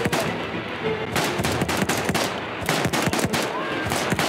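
Weapons fire in Battlefield 1, a loud dense stream of rapid shots and bursts overlapping one another with almost no break, with faint talk buried underneath.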